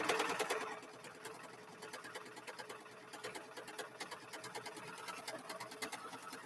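Sewing machine stitching down a mug rug, a fast steady run of needle strokes after a louder start, continuous rapid ticking at moderate volume.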